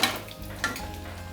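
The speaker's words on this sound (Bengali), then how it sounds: "এবার আমি পেঁয়াজগুলো অল্প তেলে ভেজে নিচ্ছি।" Onions frying in a little oil in a pan, a short close sizzle with a clink or two of a stirring utensil.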